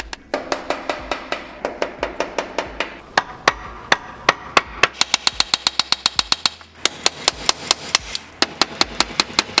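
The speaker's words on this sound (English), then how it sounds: "the tools I'm using on this job are a big old heavy masonry hammer, a somewhat smaller hammer, a large 14-inch cat's paw, cold chisel, and a punch." Heavy masonry hammer driving a cold chisel against steel rivets on a prison bus body, sharp ringing metallic strikes in quick repeated bursts with short pauses between runs, close and loud.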